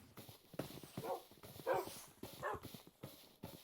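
Dogs bark in a video game village scene, several short faint yaps and woofs spread across a few seconds over soft background game sounds.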